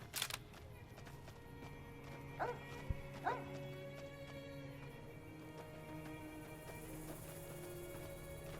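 Dog barking in Fallout: New Vegas, a few sharp barks in the second to fourth seconds over a steady low game ambience hum, moderately near, with quiet background tones throughout.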